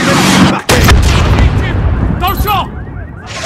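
Artillery strike landing on a laser-marked target in Call of Duty Modern Warfare, a sudden loud blast with a sharp cutoff, then rumbling debris and crackling gunfire, with radio voices talking over it.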